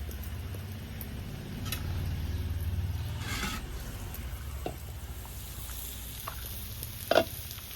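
Food fries in a newly bought pan with a steady hissing sizzle, close and continuous, broken by a few faint ticks and a brief sharp clink near the end, with no talking.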